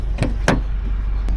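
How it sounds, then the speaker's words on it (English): Subaru WRX front seat slides forward on its lever: a few sharp mechanical clicks and clunks spaced out over a second and a half, close up inside the quiet car. "you can pull this lever, bring the seat up"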